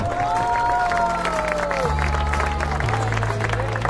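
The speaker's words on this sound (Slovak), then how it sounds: "Jeden veľký aplauz ešte pre túto trojicu" Crowd at a women's running race award ceremony applauding the three winners, steady clapping and cheering throughout with a tonal melody and bass music playing underneath.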